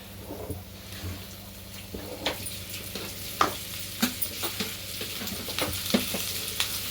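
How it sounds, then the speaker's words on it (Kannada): Coriander and mint frying in hot oil make a steady close sizzle, broken by sharp crackles and spatters and the occasional scrape of stirring. "ಆಮೇಲೆ ಕೊತ್ತಂಬರಿ ಪುದೀನ ಒಂದು ಗಿಡಿ ಇದನ್ನ ಎಣ್ಣೆಗೆ ಹಾಕೊಂಡು ಹುರ್ಕೊಬೇಕು"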